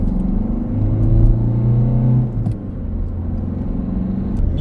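A Ford Fiesta 6 pulls in third gear with a steady, low engine rumble heard from inside, rising briefly before easing off.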